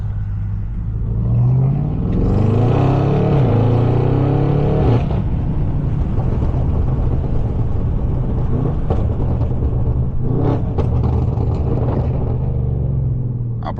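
A BMW M550 engine runs loud and close, a deep steady rumble that swells as it revs early on, then settles into a sustained drone with faint clicks and knocks.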